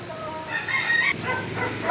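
A big rooster crows once, close and clear, a short strained cock-a-doodle-doo over faint background noise.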